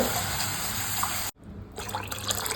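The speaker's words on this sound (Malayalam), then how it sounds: "ഞാൻ ഇതിലേക്ക് 1 ലിറ്റർ പാൽ ഒഴിച്ച് കൊടുക്കുന്നുണ്ട്" Full-fat milk streams steadily into a pot with a bright hiss, stops abruptly, then resumes as a softer, uneven trickle.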